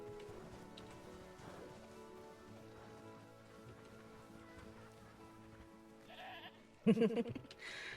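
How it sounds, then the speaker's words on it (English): Baby goats bleat in the zoo-building game Planet Zoo, a quick cluster of loud calls rising near the end over a soft, steady ambient bed of game music and patter. "Look at the baby goats."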